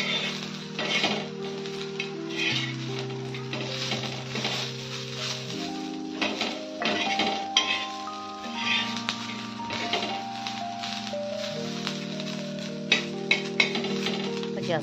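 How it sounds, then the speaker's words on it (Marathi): Onion and roasted coconut are stirred and fried in oil for a spicy mutton curry, with repeated spatula scrapes and a light sizzle under steady tonal background music, ending in a few sharp clinks. "दोन्ही मिक्स करून आपल्याला तेलामध्ये परतून घ्यायचं"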